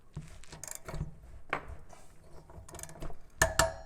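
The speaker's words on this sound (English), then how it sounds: "oh look, our torque wrench is all ready to go." A torque wrench clicks close by while tightening a lock ring on a fat tire mountain bike wheel, with a few scattered clicks and clunks and a sharp burst near the end.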